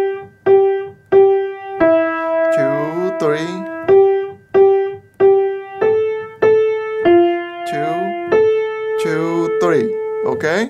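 A piano plays the right-hand melody of How Great Thou Art as single sustained notes, each struck and slowly decaying in a steady unhurried rhythm, close and clear, with a brief voice breaking in twice between notes.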